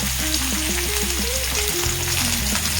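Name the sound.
ridge gourd frying in a pan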